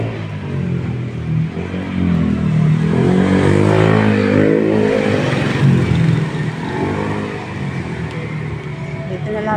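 A car drives past on a tree-lined street in Clark, its engine rising and then fading as it goes by, with someone talking nearby.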